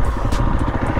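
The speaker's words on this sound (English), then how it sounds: "So I'm in second gear right now, and this is just me idling." A KTM FE350 dirt bike engine idles in gear close by with a steady, rapid chugging rumble, loud and uneven.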